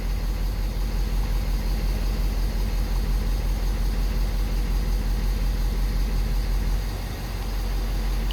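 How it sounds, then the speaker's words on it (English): A 6.7 diesel engine idling with one injector disabled, a steady low rumble that holds evenly throughout with a brief dip near the end. "You guys hear the engine change?"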